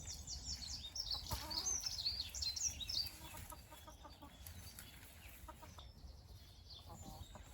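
Chickens cluck and squawk nearby, a busy flurry of calls early on that settles into softer scattered clucking over a low background hum.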